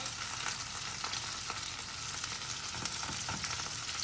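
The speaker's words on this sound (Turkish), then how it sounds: "Biberlerimiz kızardı." Peppers fry in a pan for a Turkish breakfast dish, giving a continuous close crackling sizzle with occasional sharper pops and no talking.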